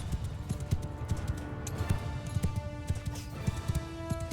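Horse hooves galloping in the video game Mount & Blade II Bannerlord, a fast, steady clip-clop rhythm under dense battle noise, with no talk over it.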